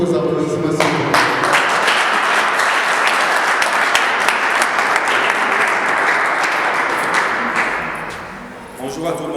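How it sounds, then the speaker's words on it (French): An audience at a political youth league gathering bursts into sustained applause, dense clapping that opens after a brief voice, holds steady and loud, then tapers near the end as speech returns. "Sous vos applaudissements, s'il vous plaît."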